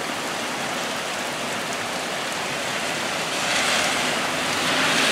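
Heavy rain pours down in the mountains of Montana, a dense, steady hiss that swells slightly toward the end, with no voices over it.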